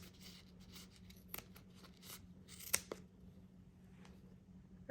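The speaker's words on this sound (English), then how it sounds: "And then you cut along the edge" Scissors snipping yarn along the edge of a crocheted amigurumi zebra mane, a few quiet close cuts and light rustles over a soft hum, no talking.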